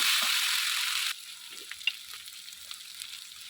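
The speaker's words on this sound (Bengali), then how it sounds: "ভালো করেই ভেজে নিব আলুটা" Oil sizzles loudly and steadily for about a second as potatoes fry for a fish-head potato curry, then fades to a quieter crackle with a few light pops.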